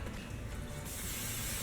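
Hairspray sprayed onto hair during a styling session: one short, faint, steady hissing burst from an aerosol can, close by and alone, brightening toward its end.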